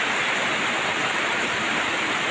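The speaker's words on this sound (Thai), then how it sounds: "ก็ฝนก็ตก ทั้งวันทั้งคืนนะครับ" Heavy rain falls steadily at a rural home in the morning after pouring all night, a dense, even hiss with no pauses and no voices.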